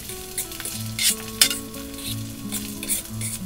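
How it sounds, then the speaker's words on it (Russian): Food sizzles in an old frying pan while a fork scrapes and stirs through it, with light metallic clicks against the pan. "мешать на сковороде. Ну, буду аккуратно вилочкой вот так вот."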